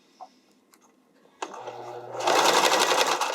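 A sewing machine stitches underwire channeling onto a bodysuit, starting after a sharp thump and settling into a fast, steady mechanical whir that grows louder and continues to the end. Nobody talks.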